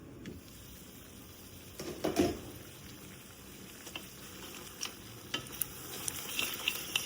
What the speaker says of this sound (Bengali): মাংসগুলো অ্যাড করে এখন আমি ভালোভাবে মশলার সাথে মাংসটাকে মিক্স করে নিচ্ছি।